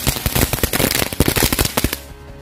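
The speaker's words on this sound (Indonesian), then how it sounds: "selanjutnya kita nyalakan mercon bunga teratai. Ini bisa berputar seperti gangsing." A lotus flower spinning firecracker goes off in a rapid, loud burst of sharp crackling pops for about two seconds, then stops abruptly.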